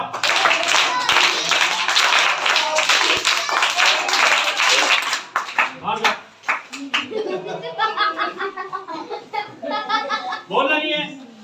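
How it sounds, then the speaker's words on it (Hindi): Classroom students clap loud, fast rounds of a five-clap rhythm together, then break into chuckles and laughter while people talk. "पंचताली बजाओ।"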